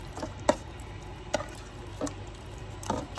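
Raw chicken with pepper being mixed and massaged by hand, giving faint wet squelches and soft slaps at irregular intervals over a low background hum.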